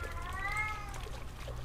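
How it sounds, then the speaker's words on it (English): A cat meows plaintively in the horror video game Erie, a single drawn-out cry over a low rumbling background. "Hey, cat. Why are you crying?"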